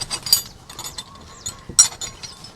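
A wrench ratchets a screw in, giving quick metallic clicking bursts with brief pauses and a sharp clink near the end, close up and with no talking.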